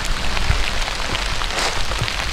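Steady rain patters on surfaces outdoors in a countryside yard where fence work is underway, a dense continuous hiss with scattered nearby drops and no talking.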